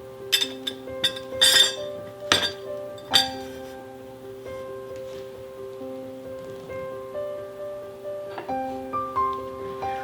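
Ceramic plates and a bumblebee-topped spoon from a botanical flower tableware set clink together several times in quick bursts, bright glassy chinks ringing out close by, then quieter handling with faint lingering tones.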